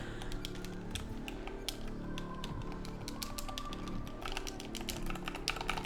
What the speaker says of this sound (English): I am mashing the fucking X button.